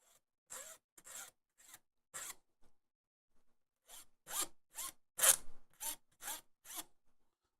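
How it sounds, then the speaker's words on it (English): Metal file run by hand along the edge of a circuit board, heard as short rasping strokes in two bursts: four or five quick scrapes, a pause, then about eight more, close and fairly loud with no talk. "getting a file and just running it a couple times on the file"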